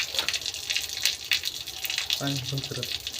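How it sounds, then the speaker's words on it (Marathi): Water is poured gently onto newly planted potatoes, producing a soft continuous splashing gush, and a voice speaks briefly near the end. "थोडं हलकंसं पाणी टाकू याच्यावर."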